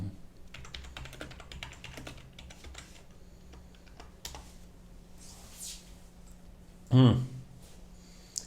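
Keystrokes on a computer keyboard during an online chess blitz stream, quick clicks in the first few seconds, then sparser taps, with a brief loud burst near the end and low background hum.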